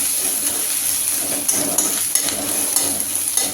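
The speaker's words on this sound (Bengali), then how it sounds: "ফাইনলি চপ আদা দিয়ে দিলাম এইটাকেও হালকা একটু ভাজতে হবে" Finely chopped ginger fries gently in hot oil, a steady soft sizzle with a few faint clinks and stirring taps throughout.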